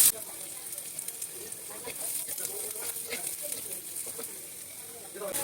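Chopped garlic fries in a pan with capsicum cooking, giving a steady, fairly quiet sizzle and crackle throughout, with no talk over it.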